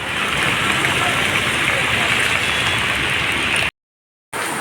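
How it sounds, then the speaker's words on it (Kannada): Heavy, incessant monsoon rain pours down in Mangalore, a dense, steady roar of water that stays loud and unbroken until a short silent gap near the end. "ಬಿಡದೆ ಬರುತ್ತಿರುವ ಮಳೆ ತಗ್ಗು ಪ್ರದೇಶಗಳನ್ನೆಲ್ಲ ತುಂಬಿಕೊಳ್ಳುವಂತಹ ಮಳೆಯ ನೀರು"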